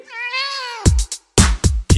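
A long, drawn-out cat meow rises and holds, then gives way to punchy, loud electronic beats in a kitty dance-party song.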